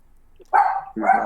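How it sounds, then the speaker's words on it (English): A dog barks twice in quick succession, close and fairly loud, the two short sharp barks separated by a brief pause in an otherwise quiet room. "I'm sorry for my dog barking"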